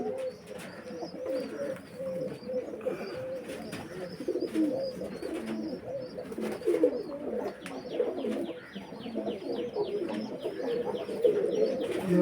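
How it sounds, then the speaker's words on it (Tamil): Pigeons coo steadily in a loft, a dense chorus of low throaty coos overlapping continuously with some faint chirps and rustling, close and without talk. "இதுவும் அதை சேர்ந்த புறாக்கள் தான்."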